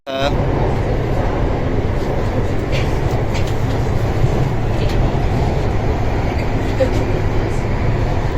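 An underground metro train in Thailand rumbles steadily at close range, a loud continuous roar with faint higher squeals while people talk in the background.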